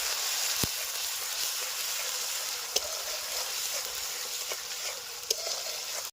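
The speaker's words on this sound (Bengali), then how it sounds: "প্রথমে দিয়ে দেবো পেঁয়াজ বাটা আর রসুন বাটা একটুখানি ভাজবে এটাকে" Onion and garlic paste frying in hot mustard oil in a village kitchen, giving a steady, fairly loud sizzle throughout, with a few brief sharp pops and clicks.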